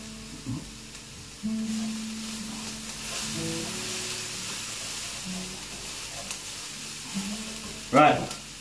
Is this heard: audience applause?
no